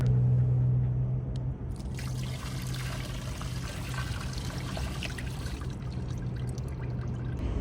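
Greywater drains from a campervan's tank into a car park grate, a steady trickling, splashing flow that swells after the first second and then runs on evenly nearby.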